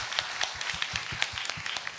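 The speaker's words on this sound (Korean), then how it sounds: "큰 박수 주세요." Applause from a small audience at a year-end live concert in a Daehangno café in Seoul, following a carol medley; scattered claps rise as a moderate, busy patter across the room, with no one talking.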